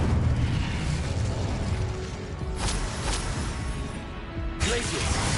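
An Incendio fire spell goes off in the video game Hogwarts Legacy as a loud, roaring burst of noise, swelling and dipping with sharper flares near the middle and end.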